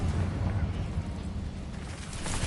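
Confringo fire-blast spell cast in the Hogwarts Legacy video game, a loud, full, rumbling explosion that sustains for a couple of seconds with no pause.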